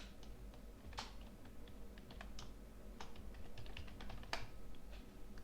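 Quiet, close typing on a computer keyboard, irregular key clicks in short bursts over a faint steady hum, with no voices.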